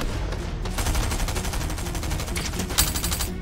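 Automatic gunfire rattles in a Fortnite match, a rapid close burst of repeated shots running almost continuously for a few seconds, loud and dense, with no speech over it.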